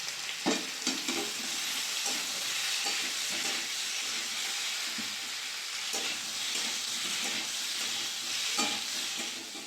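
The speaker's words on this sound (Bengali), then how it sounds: "এই তেলের মধ্যেই আলুটা ওলকপিটা ভেজে নেব।" Potato and kohlrabi pieces frying in mustard oil with a little turmeric in a kadai, a steady, close hiss and sizzle with occasional crackles and stirring scrapes, no talk.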